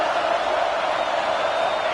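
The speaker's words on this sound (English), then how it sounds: "how nice is it to have the home crowd going absolutely bananas?" A home stadium crowd in the College Football 26 video game roars in a dense, steady wash of cheering that fills the whole moment at close, loud level.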